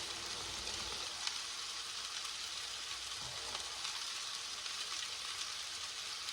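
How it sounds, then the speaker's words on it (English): Steady, hissing sizzle of onion rings frying in hot oil, continuous and even throughout with faint crackles. "Just frying all the onion rings."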